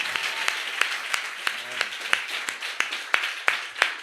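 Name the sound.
congregation applauding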